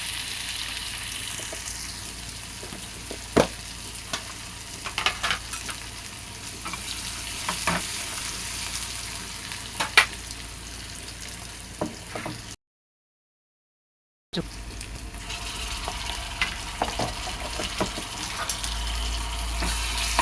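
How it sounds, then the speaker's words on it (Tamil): Onions sauté in a pan with a steady sizzle, broken by scattered stirring clicks and a short silent gap midway, with no talking. "வெங்காயம் போட்டுக்கலாம். நல்லா வதக்கிக்கலாம்."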